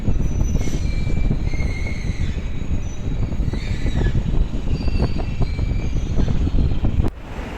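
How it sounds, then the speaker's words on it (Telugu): A train pulling into Araku railway station, a loud, steady rumble of wheels and carriages with thin metallic squeals riding above it, ending in a sudden drop near the end. "అదిగోండి ట్రైన్ వస్తుంది."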